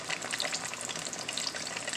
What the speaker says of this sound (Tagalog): Prito natin ulit bago natin igisa siya sa butter at garlic.